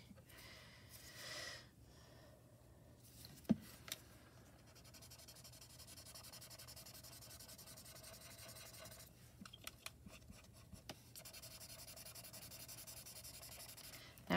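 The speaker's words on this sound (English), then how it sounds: "they sell this, basically it's sandpaper, and you just kind of rub that along the sandpaper" Worn, jagged tool tip rubbed back and forth along sandpaper, a long soft scratchy rasping in close, quiet strokes with a few small knocks and clicks between passes, under a low steady hum.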